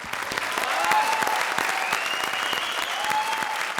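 A studio audience at a televised comedy show breaks into loud, sustained applause, a dense crowd of hands with a few sharper claps and whistles standing out.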